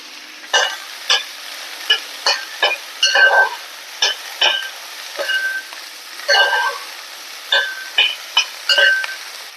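Quarter kilo of okra stir-fried in a pan for vendakka thoran: a rhythmic series of close scraping spatula strokes, each with a brief sizzle, repeating steadily with short gaps between and no talk.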